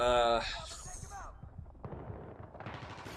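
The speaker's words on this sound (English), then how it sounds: "Look, I'm shooting all my bullets over his head." Gunfire in the video game Battlefield 3, with a loud burst at the start and then quieter shots and a low hum underneath while someone talks.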